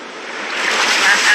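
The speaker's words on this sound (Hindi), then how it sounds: "वो लहरें काफी बड़ी लग रही हैं और वो हमारी तरफ ही आ रही हैं।" Big ocean waves roll toward the shore near a rocky island on an American sea voyage, a broad loud surf wash building steadily with wind noise and no talk.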